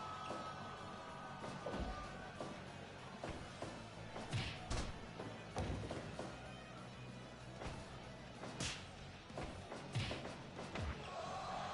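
Wrestling headbutts land on the opponent's shoulder and head as a run of dull thuds and slaps at uneven intervals, faint and set against a murmuring crowd.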